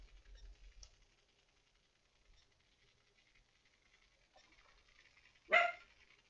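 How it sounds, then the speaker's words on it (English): One short, sharp dog bark, fairly close, stands out against near silence, preceded by faint low rumbles and soft scattered rustling in a quiet indoor room. "Apologize for the dog."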